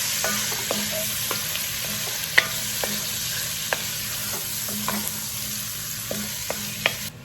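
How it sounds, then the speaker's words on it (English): Pork seasoned with Cajun spice browns in a pan with a steady, close sizzle, broken by occasional sharp clicks and scrapes of a utensil stirring the meat. "So my pork is almost all browned off."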